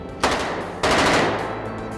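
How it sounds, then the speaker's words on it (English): Thompson submachine gun, the Tommy gun, firing blanks on a set staged as a period shoot-out: two loud bursts of rapid automatic fire at close range, the second longer, over a dense roar of continuous noise. "The Thompson, the Tommy gun, this is the most iconic kind of weapon of that era."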